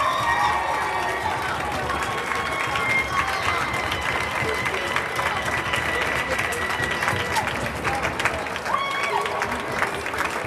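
An audience at a high school winter sports awards ceremony claps for student athletes: sustained, dense applause from a large crowd, steady and fairly loud for the whole stretch, with scattered cheers mixed in.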